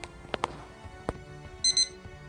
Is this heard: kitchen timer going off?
yes